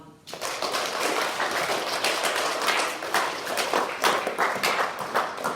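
A crowd claps steadily for several seconds after a brief quiet start, a dense, even patter of many hands with no voices.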